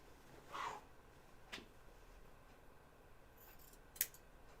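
Scissors trimming fabric at a garment hem allowance, a few separate quiet snips spaced out over near silence, with one sharper cut near the end and no talking.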